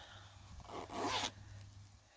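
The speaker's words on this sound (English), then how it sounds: "And it's got a zipper. Isn't that fun?" Zipper on a handwoven pink clutch bag being drawn once at close range, a soft short rasp that swells into a louder, quicker pull and then stops, over a faint low hum.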